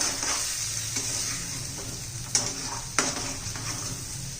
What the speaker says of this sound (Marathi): छान असं तेल सुटेपर्यंत आपण आता परतून घेऊया